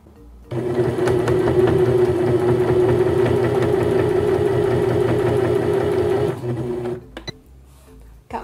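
A sewing machine runs steadily while stitching a ribbon sash, a close, even mechanical whir with a rapid needle rhythm lasting about six seconds before stopping, followed by faint handling of fabric.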